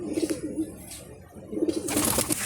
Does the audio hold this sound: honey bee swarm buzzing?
no